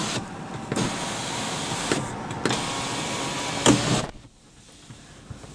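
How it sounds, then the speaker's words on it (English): Power rear window on a Chevy Silverado 1500 pickup sliding open, a loud steady electric motor whir lasting about four seconds with faint clicks, then cutting off into quiet cabin hum. "And this button opens this window back here automatically."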